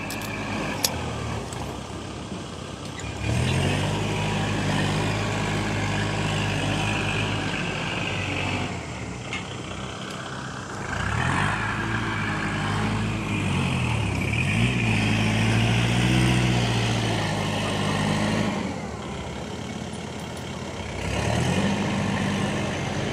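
A tractor working at a site-preparation job, filling and levelling soil, rumbles close by, its diesel engine repeatedly revving up and dropping back as it moves.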